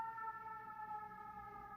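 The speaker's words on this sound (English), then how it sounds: "trying to let that ambulance go by." Ambulance siren sounding steadily throughout, a sustained wailing tone with harmonics, fairly loud and close with no voices over it.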